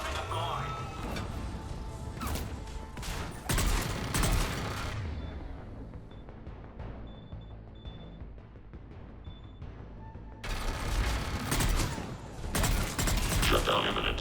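Dense, loud turret gunfire in the Mass Effect 3 game, with crashing impacts that build, ease into a quieter mechanical stretch, then surge again near the end, while voices talk throughout.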